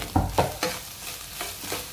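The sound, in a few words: sizzling and stirring of tempered greens in a pan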